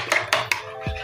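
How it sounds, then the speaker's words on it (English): Eggs and cinnamon beaten with a whisk, three quick clinks against the bowl followed by a softer scrape, close up and brief. "And I'm just going to whisk it"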